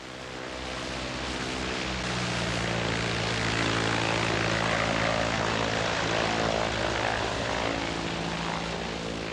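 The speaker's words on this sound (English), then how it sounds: "When the sound of the engine has died away" A float plane's propeller engine drones steadily and loud over Alaska's Prince William Sound, a constant buzzing roar that swells slightly and holds throughout with no voices.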